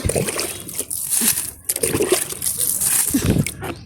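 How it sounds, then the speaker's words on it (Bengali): Water being poured onto eggplant plants in a garden: continuous sloshing and splashing close by, in uneven bursts, with brief pauses between pours. "একটু করে জল দিচ্ছি"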